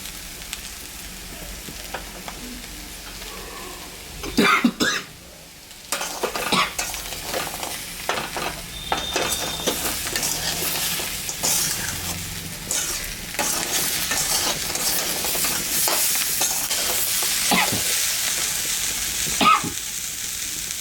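Tomatoes fry in a pan with a steady sizzle, and a utensil scrapes and stirs them in repeated strokes. One brief pause, then the frying carries on loud and close.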